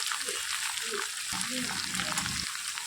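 Cut and washed cauliflower stems, added over eggplant and radish, fry in a pan with a steady close sizzle and crackle, while a voice talks over part of it.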